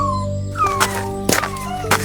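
A small injured dog whimpers and whines in thin, drawn-out cries that slide downward, repeating a few times up close with soft rustling between them.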